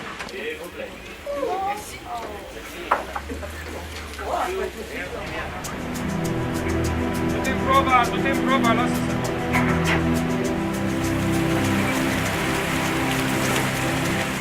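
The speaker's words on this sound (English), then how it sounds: "A light summer rain breaks out just as we're about to leave." Light summer rain falls on the deck of a boat on the Danube, a dense close patter that starts softly and thickens partway through. Voices and low engine hum sit underneath.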